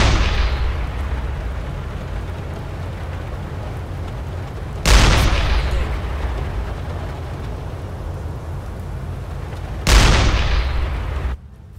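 Three heavy booming 8.8 cm deck gun shots from a submarine in the video game UBoat, about five seconds apart, each a sharp blast followed by a long rumbling decay, with a constant low drone underneath.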